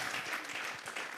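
A church congregation applauds together as an offering to God, a full, steady wash of many hands clapping in a large room, sustained without a break.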